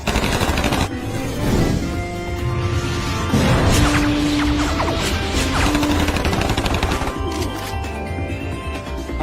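Rapid gunfire fills a Hindi-dubbed animated episode, with loud continuous bursts of shots and impacts over a dense background score, heard without speech.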